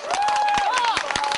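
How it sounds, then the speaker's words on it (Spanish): Brief steady applause from a group of people picnicking outdoors among soldiers in North Korea, with a voice talking over the clapping. "¿Puedes decir que estamos aplaudiendo?"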